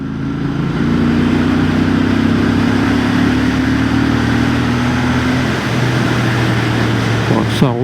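Royal Enfield 650 Bear motorcycle engine held steady in fourth gear at around 50 km/h on a small road, a loud continuous droning hum with smooth pitch that dips slightly before settling, heard from the rider's position.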